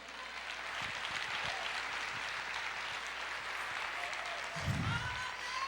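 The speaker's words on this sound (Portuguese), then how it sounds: "Você pode aplaudir o Senhor Jesus?" A church congregation applauds at a service, a steady wash of clapping that fills the whole stretch at moderate distance, with a few faint low thumps underneath.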